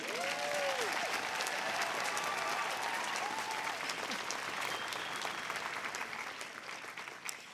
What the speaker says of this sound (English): let's applaud them one more time.